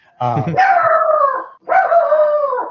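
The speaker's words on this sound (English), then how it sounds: "sorry, my dog's in my office" A dog in a home office lets out two long, loud howling barks, each opening with a sharp yelp, one after another, close to the microphone.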